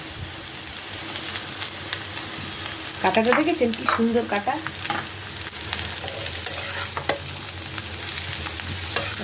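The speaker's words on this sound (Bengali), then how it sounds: "পেঁয়াজগুলো প্রায় লাল লাল করে ভাজা হয়ে গেছে, এখন আমি এই কুটলিগুলো সব দিয়ে দেবো।" Ivy gourd pieces fry with reddened onions in a pan, a steady close sizzle and hiss with a burst of stirring clatter partway through, while a voice briefly speaks over it.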